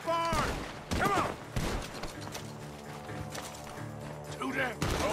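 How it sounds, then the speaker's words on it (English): Gunshots and bursts of gunfire crack out in Red Dead Redemption 2 near a barn. Several loud sharp reports are spaced across the moment, mixed with voices talking. "The gunshots are coming from that barn."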